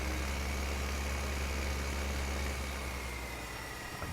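A tractor engine idles in a farming video game, a steady low rumbling drone that holds constant and close for the whole stretch, with no voices.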